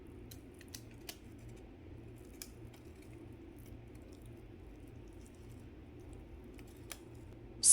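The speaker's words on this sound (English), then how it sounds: "Grease the baking pan and place parchment paper on it." Parchment paper being cut with scissors and laid into a greased baking pan for fudgy brownies, heard as faint, sparse snips and light crisp clicks over a quiet background.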